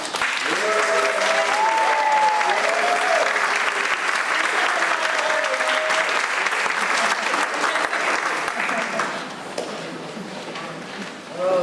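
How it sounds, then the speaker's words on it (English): Audience applause at a concert celebrating Women's History Month, loud sustained clapping with some cheering voices mixed in, tapering slightly toward the end. "And let's give a round of applause to Givonna."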